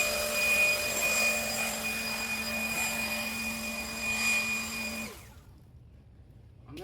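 Ryobi cordless leaf blower clearing light debris off a driveway: a steady, close, loud whooshing whine with a constant tone that cuts out abruptly near the end, leaving quiet.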